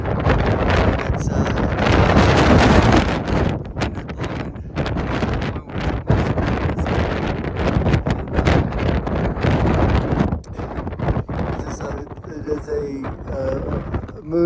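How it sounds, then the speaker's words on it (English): Strong wind on the summit of Mount Success buffets the microphone in loud, continuous gusts throughout, roaring and rumbling without letup. "a moonscape kind of scenario, and just super windy."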